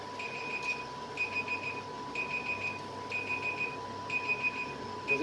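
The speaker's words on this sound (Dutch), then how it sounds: "Dat is de alarm." A kitchen timer goes off while pasta cooks, repeating short high beeping bursts about once a second over a steady low hum of kitchen background noise.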